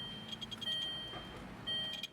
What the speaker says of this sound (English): you can hear a audible beep and the LED will flash